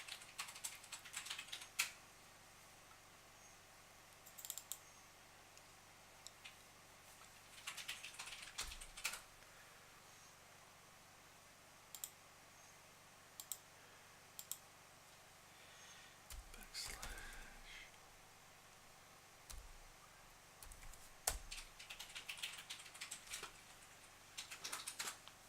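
Rapid keystrokes on a computer keyboard come in short scattered bursts and clatters, fairly faint against a quiet room background, with pauses between the flurries.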